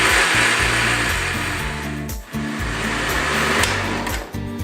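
Blender whizzing a mango and banana ice cream mixture with sugar, a loud close motor roar with the pitch wavering and briefly dipping as the load shifts, no talking.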